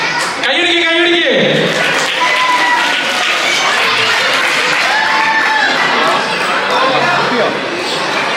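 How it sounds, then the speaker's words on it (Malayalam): Sustained applause from an audience at an Onam celebration prize draw for a Kerala association, a dense, steady clatter of clapping with crowd noise and voices talking over it throughout. "എല്ലാവരും ഒന്ന് കൈയടിച്ചേ."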